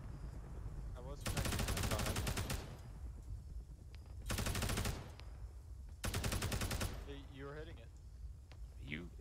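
Automatic gunfire in Arma 3 aimed at a Hind helicopter: three long sustained bursts of rapid rifle fire, loud and close, separated by pauses, with a voice talking in between.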